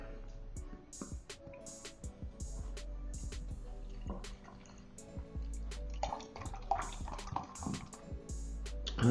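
Strong ale brewed with sugar poured into a glass at moderate pace, a run of close liquid splashes, drips and glugs with scattered clinks, steady and fairly quiet with no talk.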